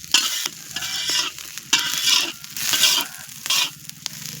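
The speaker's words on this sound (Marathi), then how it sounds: "भगरला मिरची भाजून घेतोय बघा." Green chilies roast in a hot pan for bhagar, part of a village catering order of fasting food. A spoon scrapes and stirs in repeated rhythmic sweeps, each one bringing a loud, bright sizzle, close up and with no talking.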